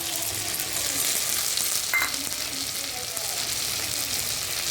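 Tomato, potato and ridge gourd frying in a pan give a steady, dense sizzle throughout, close and fairly loud, with no clear talk over it.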